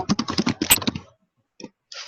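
Someone types quickly on a computer keyboard, a dense burst of close key clicks, a pause, then a few more keystrokes.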